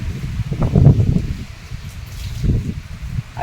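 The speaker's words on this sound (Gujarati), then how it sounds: "પવન આવે એમ તો વરસાદ ચાલુ થયો" Wind gusts sweep through rustling leaves outdoors as rain begins, giving a soft, uneven whooshing wash with swelling bursts and no speech.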